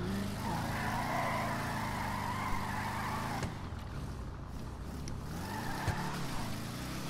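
Brand new car's engine while driving, a steady, close engine drone with rising and falling revs and a brief tire squeal midway, sustained throughout with no talk.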